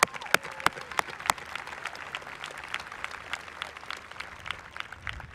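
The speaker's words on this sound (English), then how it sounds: "Please give her a round of applause." Audience applause at a school graduation ceremony, with a few sharp, close individual claps standing out over a broader, steady patter of clapping throughout.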